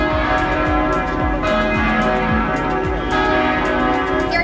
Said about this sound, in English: houses a carillon of 10 bells which ring every hour from 9 a.m. to 6 p.m.